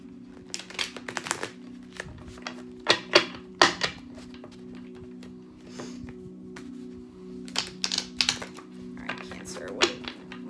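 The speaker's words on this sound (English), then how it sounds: "Do a couple shuffles, Cancer, and we will get started for you." Crisp bursts of tarot cards being shuffled, several quick riffles and taps spaced across the clip over a faint steady hum.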